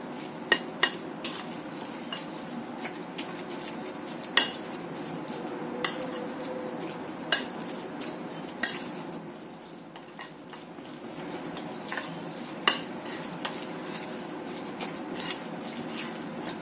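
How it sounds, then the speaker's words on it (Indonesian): A utensil stirs a thick dough mixture in a bowl after an egg is added, with soft scraping and periodic sharp clinks against the sides, continuing at an unhurried pace. "Kita aduk lagi sampai tercampur rata."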